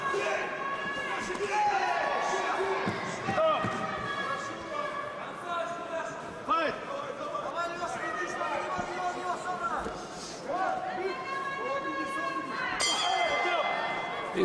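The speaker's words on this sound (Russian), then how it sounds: "И звучит гонг." A bell rings to end the second round of a TKFC kickboxing bout, sounding as a few bright clangs near the end amid loud, constant crowd noise and excited commentary.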